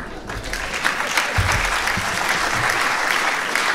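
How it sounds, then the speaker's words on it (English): Steady applause from a lecture audience fills the whole stretch, dense and even clapping with no voices over it. "This is very nice to get applause at the beginning."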